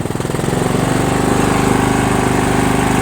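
A Toro Wheelhorse 1238XL lawn tractor with a Briggs Vanguard engine runs loud and close, a steady throbbing engine drone with a rapid even pulse and no voices.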